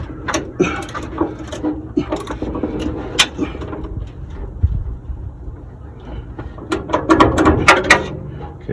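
Metallic ratcheting and clicking as a hood hinge adjuster on a 1970s Cadillac is cranked, coming in irregular bursts of clacks and turns at close range with brief pauses between them.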